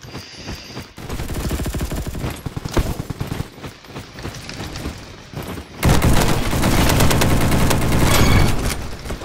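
A heavy duty gun in a Roblox game firing in long rapid bursts, loud and close, with a short pause before the shooting swells into a denser, louder stream of rounds.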